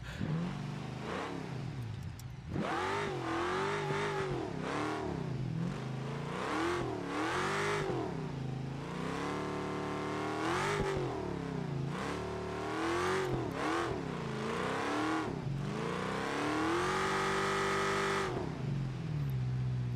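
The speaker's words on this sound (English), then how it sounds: "it just does relentless second gear burnouts no matter what I do to it." Simulated car in the driving game BeamNG doing repeated second-gear burnouts, its engine revving up and down in long rising and falling sweeps over and over, loud and continuous with no talk.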